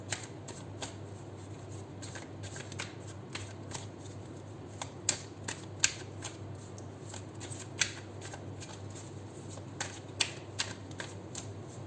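Tarot cards being shuffled over and over, a steady soft riffling with sharper flicks and snaps scattered throughout, close and fairly quiet.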